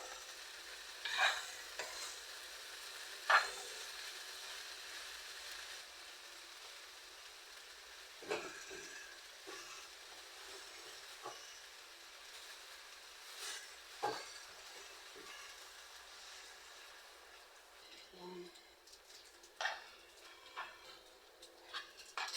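Banana blossom simmering in coconut milk in a pan is stirred, with scattered scrapes and clinks of the spoon over a soft, steady bubbling sizzle, fairly quiet and close, with no talk.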